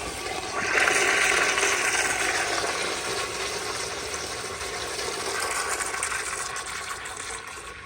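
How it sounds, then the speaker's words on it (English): A Kohler Dexter urinal, plumbed to a garden hose, flushes with a strong rush of water that surges near the start and then settles into a steady gush and trickle for several seconds. "Here is another flush."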